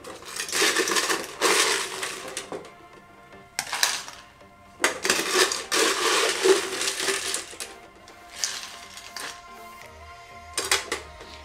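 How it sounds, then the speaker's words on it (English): Ice cubes clatter into a double rocks glass while a tiki drink is built, a few bursts of rattling, clinking cubes close by with short pauses between scoops. "I'm gonna grab some more ice."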